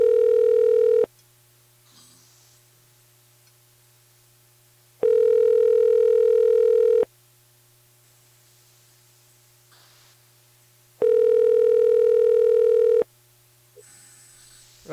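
An outgoing telephone call rings unanswered: the ringback tone sounds in regular two-second bursts separated by longer pauses, repeating three times, clear and close.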